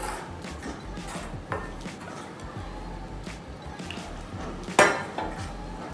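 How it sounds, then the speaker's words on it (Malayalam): A spoon stirring gram flour batter for chilli bajji in a bowl makes soft scraping and light clinks, with one sharper clink near the end, all fairly quiet. "കുറച്ച് വെള്ളം ഒഴിച്ചിട്ട് നമുക്കിത് കലക്കി വെക്കാം."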